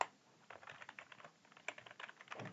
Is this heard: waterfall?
no